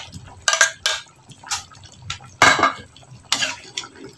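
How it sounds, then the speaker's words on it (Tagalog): Potatoes and carrots dropped into a cooking pot for chicken afritada, a series of clattering metallic knocks and splashy thuds spaced irregularly, close and fairly loud. "Lagay na natin ang ating patatas at carrots."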